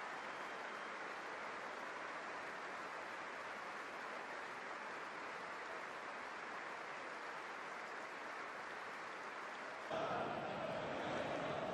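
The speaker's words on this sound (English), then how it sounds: "invite all true football fans to observe a period of applause for this special Arsenal footballer" A stadium crowd at the Emirates Stadium applauds together during the Arsenal vs Lyon Emirates Cup match, in honour of a footballer. The applause is a dense, sustained wash with no break, shifting slightly in tone near the end.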